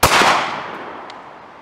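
A single loud, close gunshot from a Glock 30 short-barrel pistol firing .45 Auto Speer Gold Dot 230-grain hollow points, a sharp crack followed by a long echoing decay outdoors.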